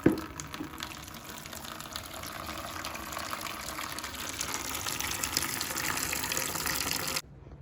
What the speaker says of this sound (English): remove the blue plug to allow the water to drain